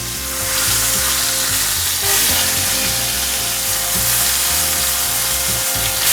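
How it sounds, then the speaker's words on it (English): Picanha (top sirloin rump cap) steak with a thick fat cap sears in a hot pan, giving a loud, steady sizzle and crackle throughout, with background music underneath and no talking. "so I'm getting that nice sear."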